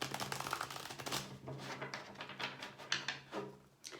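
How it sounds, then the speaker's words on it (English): Rapid papery riffling and clattering of tarot cards being shuffled close by, in several quick bursts with short pauses between. "I'm just giving them a couple more shuffles before we begin"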